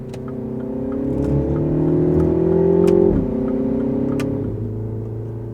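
A MINI Countryman John Cooper Works engine in go-kart mode revs up steadily with rising pitch, shifts abruptly, then pulls again at a lower drone, close and continuous while driving.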